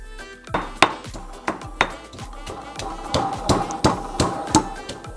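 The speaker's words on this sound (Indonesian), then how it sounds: "Bawang putihnya kita hancurkan." Garlic pounded by hand in a mortar, heard as a steady run of about a dozen sharp, close thuds with a clacking, hollow ring, spaced roughly every half second.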